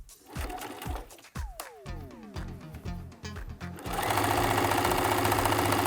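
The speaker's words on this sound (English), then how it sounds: "I'm going to follow a 3/8 inch seam allowance for this step." A sewing machine stitches a 3/8 inch seam on a fabric pie carrier, running in short bursts of rapid needle stitches before settling into a fast, continuous run, close and clear with no voices.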